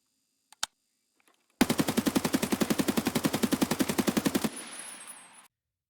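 A rifle in Escape From Tarkov fires a long, evenly spaced automatic stream of about thirty loud, close shots, then the sound trails off into a brief echoing tail. A couple of faint clicks come first.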